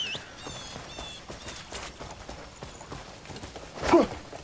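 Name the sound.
horse hooves clip-clopping in video game Crimson Desert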